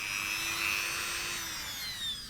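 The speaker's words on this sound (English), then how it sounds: "You drill a hole" A power drill bores a hole in material used for a forensic face reconstruction, with a steady high whine running continuously and close.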